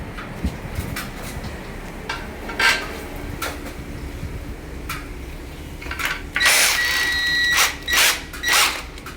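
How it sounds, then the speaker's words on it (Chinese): A power drill bores slowly into a wall for high-tension cement screws, in short bursts with pauses between them and louder whirring near the end, close by, with no speech. "它使用的时候一样是慢慢钻"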